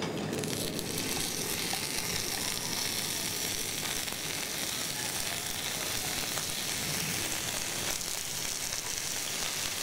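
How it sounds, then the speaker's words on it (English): Grilled prawns sizzle and fry steadily in a pan for Thai papaya salad, a dense continuous crackle with scattered pops, close and fairly loud with no talking. "the grilled prawn is ready and I'm going to add to the pan"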